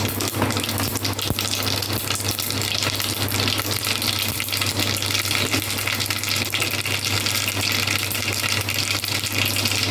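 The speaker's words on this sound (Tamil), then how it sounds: "ஸோ இது நல்லா சூடாச்சு, கடுகு போட்டுக்கலாம்." Mustard seeds spluttering in hot oil for a rasam tempering, a dense continuous crackle and hiss with a steady low hum underneath, close and fairly loud throughout.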